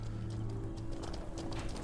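Soft, steady hoof clip-clop from horses in the Mortal Online 2 game, faint and continuous under a low ambient hum, with no talking.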